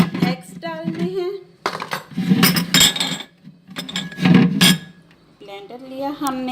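Eggs dropped into a blender jar while making a homemade night cream give a few sharp clinks and knocks against glass, mixed with handling noise, as a voice talks over them throughout.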